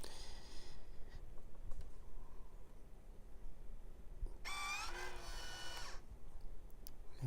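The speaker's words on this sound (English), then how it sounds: "I just write the name of the pepper" A marker writing a pepper name on a plastic freezer bag gives a short, squeaky scribbling burst lasting about a second and a half, quiet and close, over a low background hum.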